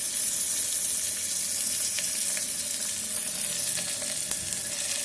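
Soyabean chilli frying in an electric kettle, giving a steady, close hiss of sizzling oil with a few faint clicks and stirring taps, no talking.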